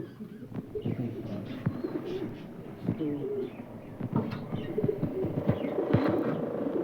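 Pigeons in a home loft give low throbbing coos over a continuous hum. Soft rustles and faint background voices come and go.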